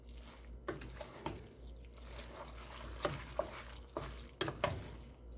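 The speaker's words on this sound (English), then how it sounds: "I'm going to mix that up real good with my spoon." A spoon stirs a no-bake tuna noodle casserole mixture with cream of mushroom soup in a pot, giving wet, sloppy scrapes and clinks in irregular strokes over a low hum, with no talking.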